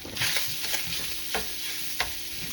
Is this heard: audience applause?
no